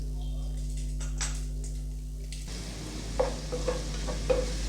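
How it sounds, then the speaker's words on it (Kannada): Mustard seeds splutter in hot oil for Andhra-style chitranna: a soft hiss first, then sharp, scattered pops and crackles up close in the second half. "ಸ್ವಲ್ಪ ಸಾಸಿವೆ ಎಲ್ಲ ಚಟಪಟ ಅಲ್ಲಿ"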